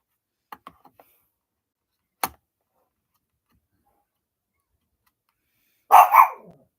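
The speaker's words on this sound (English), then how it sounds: "Anthony, shut the fucking dog up." A dog barks once, loud and close, near the end, after a few faint clicks and taps in an otherwise quiet room.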